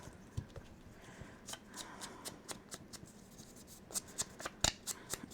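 Scissors snip repeatedly through paper while a red ball shape is cut out for a Christmas-themed file folder album, a quiet run of close, crisp clicks and rustles at an uneven pace, with no talking.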